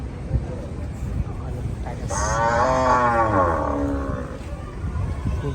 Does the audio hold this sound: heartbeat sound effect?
no